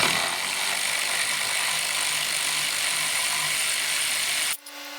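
Wrench ratcheting on a brake caliper of a 1978 Silver Anniversary Corvette, a steady close clicking rattle for several seconds that stops abruptly near the end.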